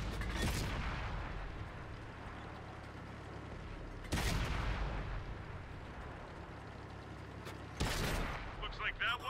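Cromwell tank cannon fire in a video game: three heavy, booming shots several seconds apart, each a loud blast with a rumbling tail over constant low engine rumble.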